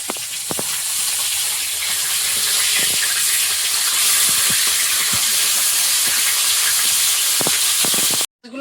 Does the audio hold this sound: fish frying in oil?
yes